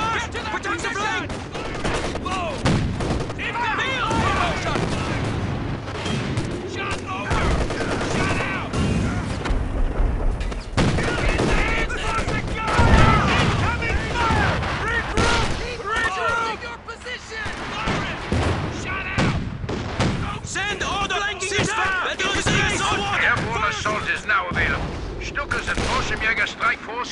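Battle in Company of Heroes 2 crackles with dense rifle and machine-gun fire and heavy artillery booms, loud and continuous, while soldiers shout orders over the din.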